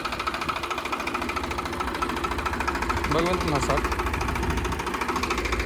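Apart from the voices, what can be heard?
Farmtrac 60 Powermaxx tractor engine running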